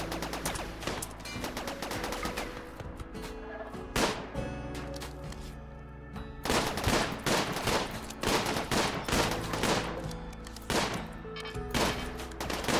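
Dense bursts of gunfire from RimWorld crackle through the whole stretch, rapid overlapping shots and volleys, loud and near, with a brief lull around the middle before the firing picks up again.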